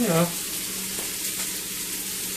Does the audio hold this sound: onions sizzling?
yes